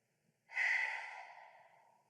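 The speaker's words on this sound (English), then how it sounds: "Take a breath in, and maybe an open mouth exhale" A single open-mouth exhale during a yoga session, a close, breathy whoosh that starts abruptly and tapers off slowly over more than a second, alone in quiet surroundings.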